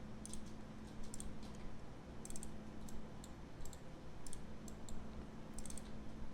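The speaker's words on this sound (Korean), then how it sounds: "더블 클릭 탕탕 해주시면" Sharp mouse clicks, some in quick double pairs, sound while navigating named views in Rhino for an Enscape render. They repeat irregularly over a steady low hum, with no talking.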